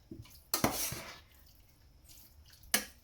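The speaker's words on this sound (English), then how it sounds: "I'm going to give it a nice stir around." A utensil stirs air-fried vegetables in a dish for a vegetarian pasta bake, giving a few close, brief scrapes and clinks between quiet pauses.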